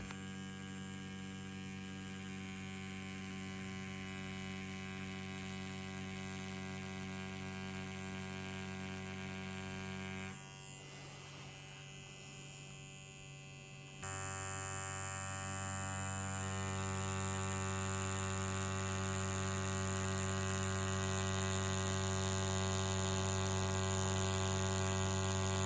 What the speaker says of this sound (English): keep quiet so you can hear the machine running